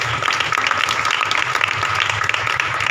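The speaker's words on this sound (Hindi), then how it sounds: "यीशु के लिए जोरदार तालियां।" A church congregation applauds loudly for Jesus during a sermon, a thick, continuous round of clapping from a crowd that stays even across the few seconds.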